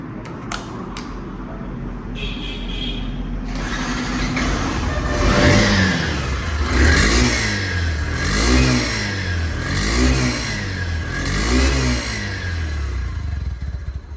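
A second-hand motorcycle engine idles, then revs in a series of regular blips, each surge rising and falling about every second and a half, close and clear with no talk.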